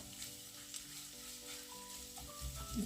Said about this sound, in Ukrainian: Нам потрібно, щоб цибулька ця карамелізувалася.